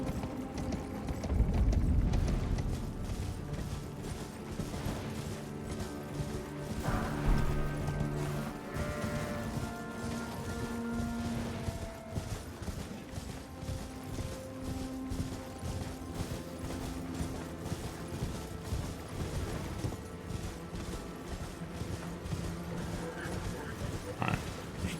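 Horse hooves clip-clop steadily at a gallop in the video game Elden Ring, a constant rhythmic beat under background music, with someone talking over it.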